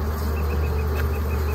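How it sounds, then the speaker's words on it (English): Honey bees buzz around a new hive during a beginner inspection before a super is added, a steady close insect drone under a constant low hum, with no talk. "Oh, look at the bees it's got."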